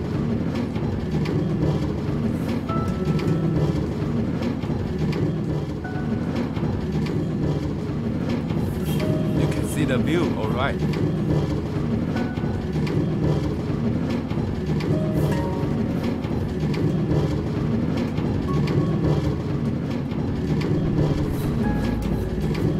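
A train ride on the Traincarts plugin in Minecraft, a steady rumbling rail-car drone running continuously with faint rattles and clicks, while a voice speaks briefly.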